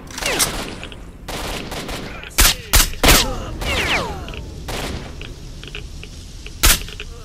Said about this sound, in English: Is that one of the snipers taking shots at us?